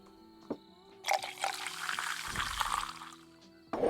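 Beer pours from a tap into a glass in Tavern Manager Simulator, a steady liquid splash and trickle lasting a few seconds, preceded by a couple of soft clicks and game sounds, with no talk.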